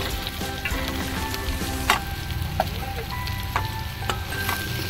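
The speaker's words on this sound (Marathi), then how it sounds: "आपण आता त्याच्यामध्ये भेंडी टाकू" Okra frying in a pan with sautéed green chillies, a loud steady sizzle close by with occasional sharp clicks and taps of a utensil against the pan.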